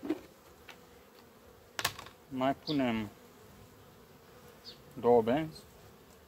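Honeybees buzz around an open hive in September during a varroa mite treatment with essential oil strips. The buzzing is a faint, steady drone beneath someone speaking briefly and some handling noises.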